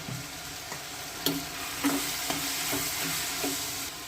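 Chili powder and vegetables sizzle steadily in hot oil while a utensil stirs, making a few soft scraping clicks against the pan.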